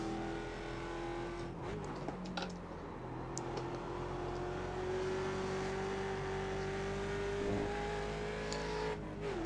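A Ford Mustang race car engine in the iRacing simulator drones at steady high revs, pitch rising gradually with brief lifts and shifts near the start and end, loud and continuous with no talk.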